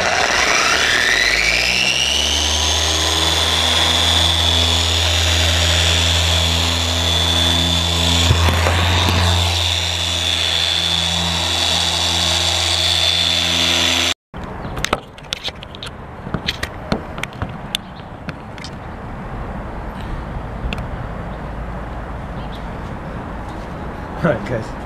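Dual-action polisher buffing compound into the paint of a 2010 Camaro SS, a loud steady motor whine with vibration that cuts off abruptly halfway, followed by quieter handling clatter and background noise.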